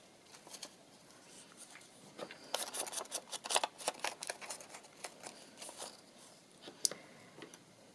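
Scissors snip paper for a Christmas journal in a quick series of small, crisp cuts, close and quiet, with short pauses between bursts of snipping.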